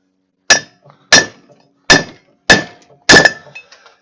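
A hammer strikes an adapter, driving wheel bearing races into a horse trailer hub: five sharp, loud metallic blows spaced about half a second apart, each ringing briefly, with no talk.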